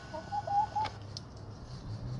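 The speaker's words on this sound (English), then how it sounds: "And right now we have 4 laying hens." Laying hens in a sunny backyard garden give a few soft clucks and brief calls, faint and close, over a steady low outdoor hum with no talking.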